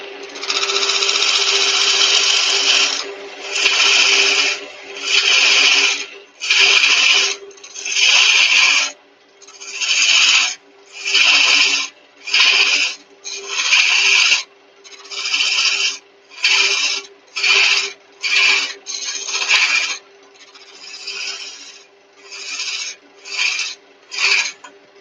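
Wood barrel being turned down to cylinder size on a lathe, a repeated rasping, scraping cut in short bursts of a second or two with brief gaps, over a steady low motor hum.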